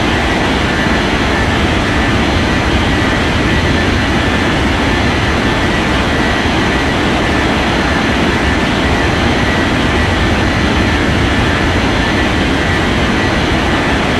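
An airliner takes off in an air traffic control video game, a steady, loud, broadband jet engine roar that holds constant for the whole stretch with no voices.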